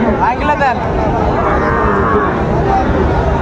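A Sahiwal bull calf lows at a busy cattle market, giving a drawn-out moo that rises and wavers over the crowd's murmur, with people talking nearby.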